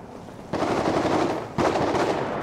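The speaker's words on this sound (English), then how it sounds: "Who's shooting?" Gunfire in bursts: a sustained rapid volley starts, briefly eases, then a second loud burst of automatic shooting carries on to the end, with no speech.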